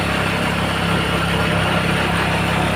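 A motorcycle engine runs steadily and loudly at close range while laboring under a heavy load, with a constant broadband rumble and no pauses.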